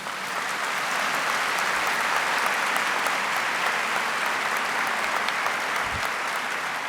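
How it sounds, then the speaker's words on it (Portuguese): A congregation claps in a round of applause during a church Mass, steady and even from start to finish, filling the room at moderate loudness. "Vamos dar uma salva de palmas."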